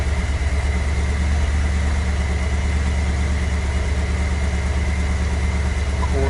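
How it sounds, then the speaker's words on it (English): A rebuilt engine idles steadily at about 1000 rpm during its heat cycle, a continuous loud, even drone with a low rumble and no speech. "Right now it's at about 1 grand. Target idle speed of 900, but it isn't dropping."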